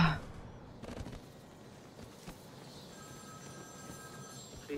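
A telephone rings faintly in Batman Arkham City, a thin steady electronic tone beneath low game ambience and scattered background noise for several seconds.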